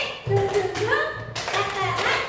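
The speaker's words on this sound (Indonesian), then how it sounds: "Tepuk velocity bisa? Tepuk velocity." Children in a classroom perform a rhythmic clapping game, with patterned claps and taps mixed under chanting voices.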